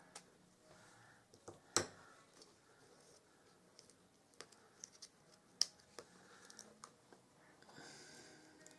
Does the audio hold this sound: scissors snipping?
yes